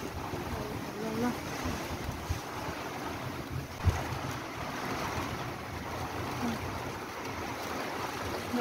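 A wind and dust storm in Saudi Arabia roars as a steady, broadband rush with gusty buffeting against the microphone, continuous and fairly loud throughout with no clear talk.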